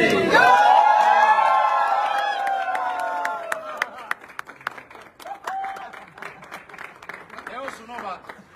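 A crowd at a stage event bursts into loud, dense applause that slowly thins into scattered, separate claps and a few cheers.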